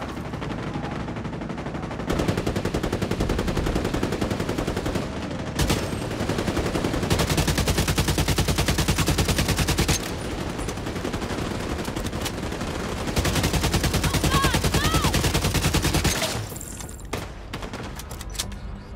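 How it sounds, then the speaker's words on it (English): Rapid automatic gunfire aimed at the player in The Division 2, long sustained bursts of dense, loud shots broken by brief pauses, close and dominating throughout, with no talking. "Shooting me."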